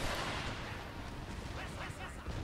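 Cannon volleys boom in an Empire: Total War siege of Constantinople, a steady wash of artillery fire and rumbling gunfire at moderate level throughout, with battle noise layered densely.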